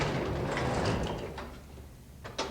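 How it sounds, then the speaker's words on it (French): A garage door rolls down with a sustained rumbling slide that tapers off, followed by a couple of short clunks as it settles closed. "Et à ce moment-ci, je peux fermer ma porte."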